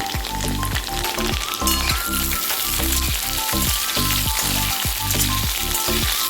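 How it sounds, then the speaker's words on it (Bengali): Eggplant pieces frying in oil alongside fried radish and potato for a Bengali cauliflower-stem chorchori, a loud, continuous close sizzle with rhythmic bursts of crackle throughout. "বেগুনটা একটু ভেজে দিতে হবে"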